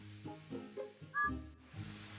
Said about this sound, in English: Thomas and his friends are going to whistle a song.